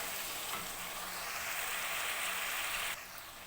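Spice masala for a red kidney bean (surkh lobia) curry fries in oil with a steady, close hiss. The sizzle keeps up without a break and drops a little in level near the end, and nobody speaks.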